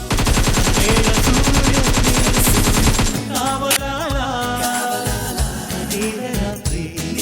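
A water gun pressure washer cleaning a church, its loud, continuous rapid-fire spray rattling steadily for about three seconds, then giving way to rougher, uneven spraying and knocking with no speech over it.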